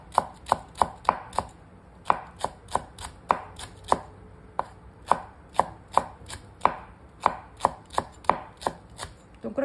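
Green onions are chopped with a knife on a board in a run of sharp, close knocks, a steady rhythm of roughly two chops per second with brief pauses between bursts.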